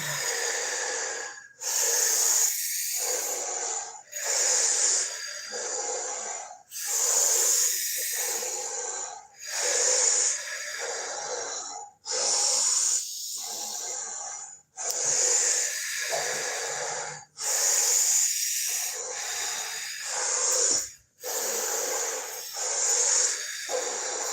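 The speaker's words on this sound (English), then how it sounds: "I hear my breathing." Deep, forceful breathing in a breathwork exercise, close and loud, with about nine long rhythmic breath cycles, each a heavy hissing rush of air separated by brief pauses.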